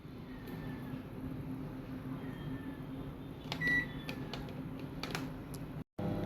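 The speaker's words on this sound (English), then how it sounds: "now cooking is going on in microwave" A microwave oven hums steadily while cooking lemon fish curry, with a few faint clicks and clatters partway through before the sound cuts out briefly near the end.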